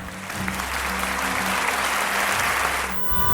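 An audience applauds first-year students at a school assembly, a dense, steady wash of clapping that holds for about three seconds and then thins out, with a low hum running underneath.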